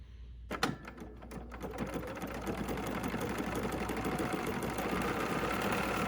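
A Bernina sewing machine stitches two pieces of batting together along a curve, running as a steady, continuous mechanical hum after a few brief starts. There is no talking.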